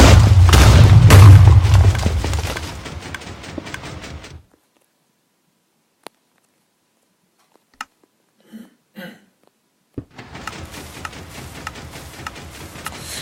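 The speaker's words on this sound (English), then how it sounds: "It is firing TNT." TNT fired from a flying machine in Minecraft explodes in a loud, rumbling boom that fades into near silence with a few isolated clicks, then another stretch of crackling blast noise follows.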